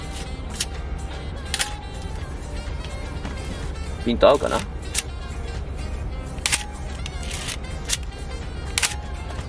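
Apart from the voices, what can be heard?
Pentax Super A film SLR camera shutter clicking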